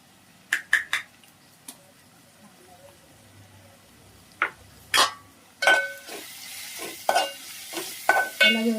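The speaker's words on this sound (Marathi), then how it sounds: "त्याला व्यवस्थित परतून घेऊया सगळ्या मसाल्याला" A spatula stirs ginger-garlic paste with coriander powder, cumin powder, red chilli masala and turmeric in a hot pan, giving sharp scraping knocks and clinks at irregular intervals over a soft sizzle that grows thicker toward the end.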